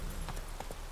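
Horse hooves clip-clop in The Witcher 3 video game, giving a brief run of a few quick, light hoofbeats over a steady background.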